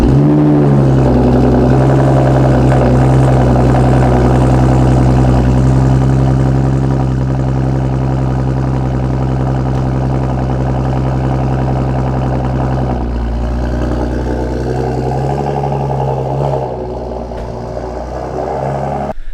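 An Audi S4/S5 fitted with an AWE exhaust idles after a cold start, a loud, deep, steady burble with a strong low rumble that drops slightly in level toward the end, with no talking.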